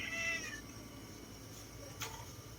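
A cat meows twice, a clear wavering call at the start and a shorter one near the end, close and fairly quiet over a low background hum.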